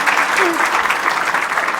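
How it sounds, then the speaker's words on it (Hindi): An audience applauds loudly and steadily for a short moment at a spiritual talk, the clapping dense and even with no break. "ताली तो हो जाए।"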